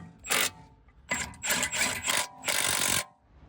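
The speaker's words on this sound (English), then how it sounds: "And obviously torquing up as required. Click." A torque wrench ratchets and clicks in short bursts while tightening the front brake caliper bolts on a BMW E90 335d, close up with no talking.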